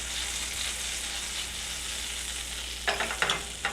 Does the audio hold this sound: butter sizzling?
yes